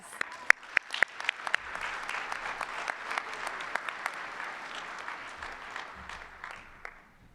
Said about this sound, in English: Please give yourselves a pat on the back and a round of applause